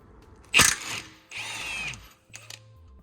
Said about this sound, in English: removing this shock bolt here